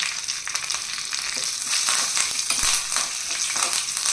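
Spices and curry leaves fry in a hot pan with a loud, steady crackling sizzle and scattered pops throughout, close up and with no voices.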